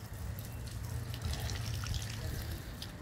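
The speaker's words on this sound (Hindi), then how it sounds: "पानी थोड़ा सा स्लो आ रहा है" Water running slowly from a garden tap through a hose pipe while watering potted plants, a quiet continuous trickle and splash with a low steady gurgle underneath.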